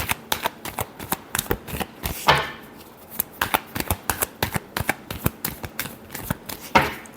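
Tarot cards shuffled by hand in a quick run of crisp riffling flaps and slaps, close and fairly loud, with a brief pause before a final burst of shuffling.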